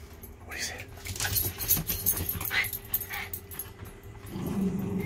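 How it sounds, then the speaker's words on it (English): Very large dogs snuffle, whine and growl faintly amid jangling and shuffling noises at a campsite, with a low rumbling growl rising near the end; indistinct voices murmur in the background. "Man, those dogs are huge."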